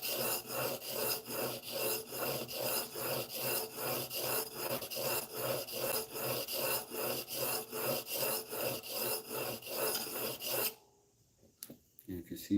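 Steel blade of a Stanley No. 4 hand plane rubbed back and forth on a sharpening stone, a steady rhythmic rasping stroke repeating about twice a second for ten seconds, close and loud, then stopping with a few faint clicks.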